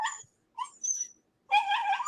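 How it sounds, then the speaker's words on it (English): A puppy gives high, thin whimpers and yips in a farmhouse, three short bursts separated by brief silences, close and clear with no talk over them. "It's okay. It's okay. It's just a puppy."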